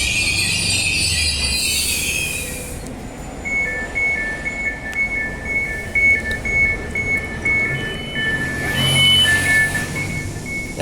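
A Transperth C-series electric train runs on rails on Perth's Joondalup and Mandurah lines, with a steady loud rumble of wheels and high, sustained squeals and tonal whines rising and fading across the run, and no talking.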